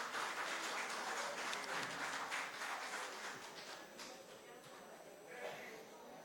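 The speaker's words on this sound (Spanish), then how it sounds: "Fuerte el aplauso para ella." An audience at an alumni event on vulnerable populations in health emergencies applauds in a steady wash of clapping that gradually thins and fades toward the end.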